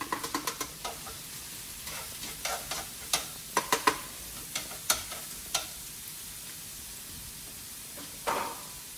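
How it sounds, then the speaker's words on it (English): Minced mushrooms cook in a pan with a faint steady sizzle, broken by repeated sharp clicks and scrapes of stirring, close and quiet with no talk. "Now I'm going to add some of my minced mushrooms"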